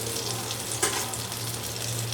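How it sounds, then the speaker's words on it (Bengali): Butter sizzles in a hot karahi before chicken breast goes in for a homemade pizza topping, giving a steady close hiss with one brief scrape partway through. "এখানে একটা কড়াই বসিয়ে দিয়েছি, এখানে একটু বাটার দিয়ে নিচ্ছি"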